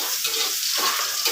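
Ingredients for a traditional Dayak dish of old hen with palm shoot hit hot cooking oil, giving a continuous close hissing sizzle with light stirring texture and no voices.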